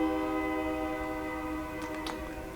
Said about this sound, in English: now that the train has passed, honking at us